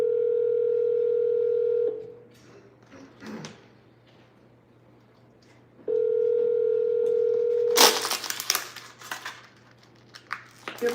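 A telephone ringback tone for an outgoing call, close and clear: a long steady tone, a pause of about four seconds, then a second ring cut short by clattering handling noises.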